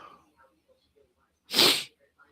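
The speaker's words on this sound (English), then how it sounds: "I've started sneezing, and it's wearing me out." A single sharp sneeze bursts out close and loud after a few quiet breaths and faint vocal sounds, standing alone against near silence.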